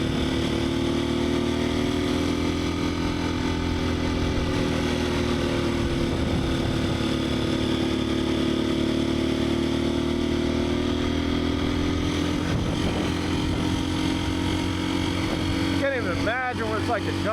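A Husqvarna FE350S motorcycle engine drones steadily and loudly while riding, its buzzing pitch rising and falling slightly with throttle over constant wind rush for the whole stretch.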